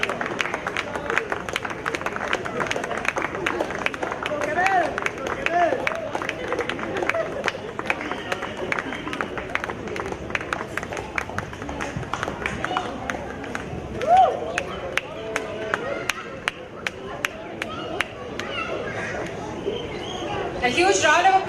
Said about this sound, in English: A huge round of applause for these ladies, for the efforts they put in, ladies and gentlemen.